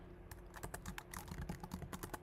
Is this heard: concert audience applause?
no